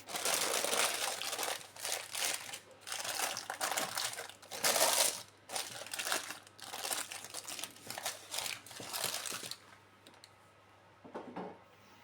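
Grease-proof paper crinkles and rustles in a home kitchen while a pan is lined for bread dough, with irregular bursts of crumpling over about ten seconds, close and fairly loud, then fading to a faint handling sound.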